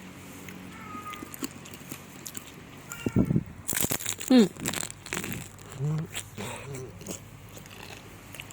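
Deep-fried spring rolls, crisp outside and soft inside, with vegetable filling wrapped in roti sai mai pastry, are bitten with several loud, close crunches and crackles, followed by softer chewing, with a person talking around the bites.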